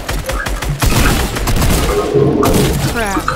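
Fortnite gunfire arrives as a quick, loud burst of overlapping shots and impacts, with game effects layered over the top.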